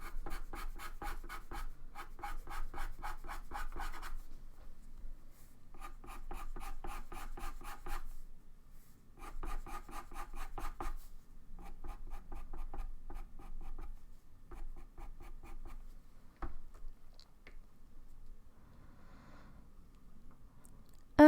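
Colored pencil scratching across paper at medium pressure, a steady run of short rhythmic strokes in bursts separated by brief pauses, close and fairly quiet, with no one talking.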